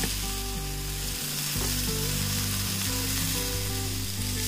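Chicken tikka pieces brushed with butter sizzle and crackle steadily while grilling over a gas stove, close and continuous with a low background hum.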